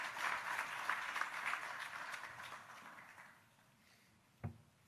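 An audience at an ITU regional development forum for Africa applauds to welcome the Minister for Communications, a broad steady patter that fades out over several seconds before a single sharp knock.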